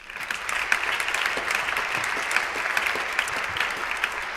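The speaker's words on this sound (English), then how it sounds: "So a big round of applause finally to all of you." Audience applause at a conference closing celebration, a steady dense clapping from a large crowd that holds evenly throughout.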